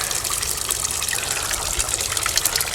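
Water from a working overflow drain rushes down into a sewer in a continuous, close, splashing gush with bright hiss and a low rumble underneath, and no voices.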